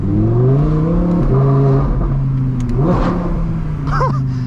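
The engine of an Audi R8 Performance, driven in winter, drones steadily against its rev limiter near 3,500 rpm, with slight pitch dips and a brief chirp near the end, loud and close, without speech.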